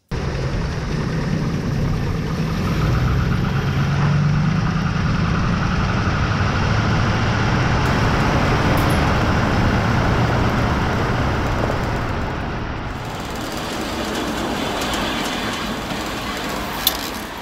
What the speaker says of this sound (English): All right, it's time to put the car through its paces.